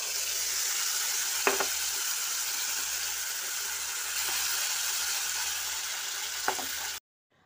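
Green coriander chutney paste hits hot oil and sizzles steadily up close, a dense even hiss with a couple of faint clinks of a utensil, cutting off abruptly at the end.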